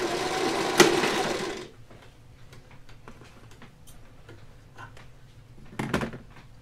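Sewing machine stitching a fabric face mask, a brief loud run of the motor at the start, then faint ticking and handling noises in a quiet room.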